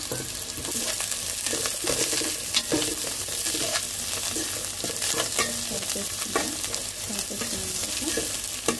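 Onions with coriander and mint fry in a pan for egg biryani, a constant close sizzle broken by repeated scraping stirs of a spoon.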